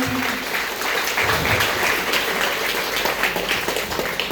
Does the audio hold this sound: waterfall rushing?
no